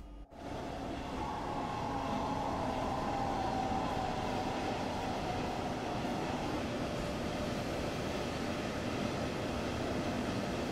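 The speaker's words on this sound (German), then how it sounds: "So, da kommt der Gegenzug." An oncoming regional express train rolls past in Train Sim World 3, a steady loud rumble of wheels on rail with a faint tonal whine that fades after a few seconds, continuing as even track noise without voices.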